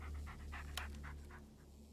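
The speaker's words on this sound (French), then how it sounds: "Good dog." A dog in the horror video game Blair Witch pants in quick, rhythmic breaths, faint and close, over a low steady hum.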